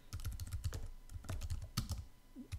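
Quick bursts of keystrokes clatter on a computer keyboard, close and crisp, with short pauses between runs of rapid taps and no voices.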